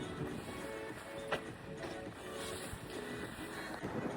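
Strong wind blowing across a park in South Korea, a constant low rumbling buffet against the microphone, steady and fairly faint with no talking.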